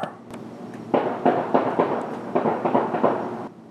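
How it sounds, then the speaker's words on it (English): Distant gunshots ring out across a city at night, roughly eight sharp reports in an irregular sequence, rising out of steady background noise. "how many shots fired was that?"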